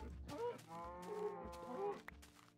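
Cows in Minecraft played on a PS1 give a couple of close, drawn-out moos with a short pause between, with nothing else heard.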